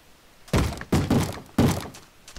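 A Minecraft zombie knocks on a wooden door, three heavy hollow thuds spaced about half a second apart, close and loud with no talking.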